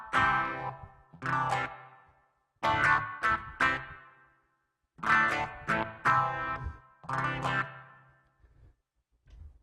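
Clean electric guitar played through a Blackstar HT-5 emulator with an Aphex exciter, EQ and reverb, ringing out in several short bright phrases of picked notes separated by brief silent pauses.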